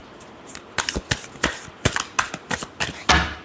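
Tarot cards shuffled in a run of quick crisp riffles and slaps, about a dozen sharp bursts spaced irregularly over a few seconds, close and fairly loud with no talking.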